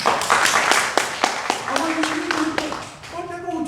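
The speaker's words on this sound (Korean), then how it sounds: "박수 한번 쳐주세요." A congregation claps together at a Korean church service, starting with a burst of rapid, loud claps that thin out over a few seconds as a sustained organ or keyboard tone enters underneath.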